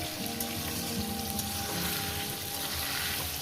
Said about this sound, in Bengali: এইবার এটাকে আমি ভালো করে সুন্দর করে মিনিমাম পাঁচ মিনিট ধরে পাঁচ ছ মিনিট ধরে এটাকে আমি ভাজবো